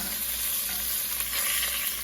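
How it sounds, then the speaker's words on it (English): Lamb sizzles and crackles steadily in a hot pan, a continuous close frying hiss with no voices. "now it's off and sizzling"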